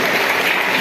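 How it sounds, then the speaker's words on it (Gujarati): Brief burst of crowd clapping at a village high school's Independence Day celebration, a dense even patter of hands lasting under a second. "આપણે સૌ તાળીઓ પાડીને વધાવી લઈશું।"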